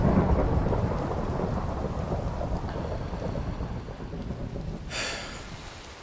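Steady rain pours throughout a video game world, with a low rolling rumble of thunder beneath it and a brief brighter crack of thunder near the end, loud and continuous with no talk.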